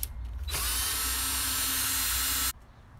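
Power screwdriver loosening the neck screws on a Fender Stratocaster, a single loud, steady whir lasting about two seconds that starts and stops abruptly.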